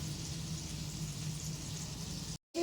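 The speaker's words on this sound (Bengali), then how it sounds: "এখনও ফ্রাই হচ্ছে ওইদিকে" KFC-style chicken pieces frying in hot oil, giving a steady, even bubbling hiss that runs unbroken before cutting out briefly near the end.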